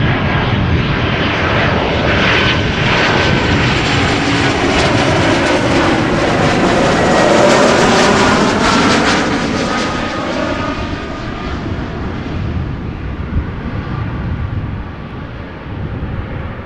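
A 15-year-old airliner, first flown in January 2008, arrives at Amsterdam Schiphol Airport, its engines a loud, continuous roar that swells and then eases slightly as it passes close by.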